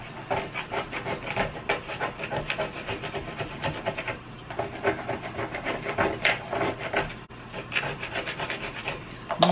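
Steady rubbing rasp of sandpaper worked by hand over a wooden cabinet being aged, with dense back-and-forth strokes continuing close and fairly loud throughout.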